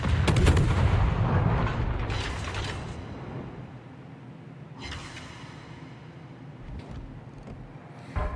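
A Marceau Tier 10 French destroyer's naval guns fire in World of Warships. A loud, booming salvo at the start decays into a long rumble, followed by fainter mechanical creaks and more distant shots.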